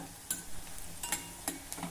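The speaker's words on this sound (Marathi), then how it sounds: "कांदा छान हलक्या तांबूस रंगावर परतून झाला आहे" Onion fries in a pan until light brown, making a quiet, low sizzle with several light scraping stirs of a spatula against the metal, faint and close.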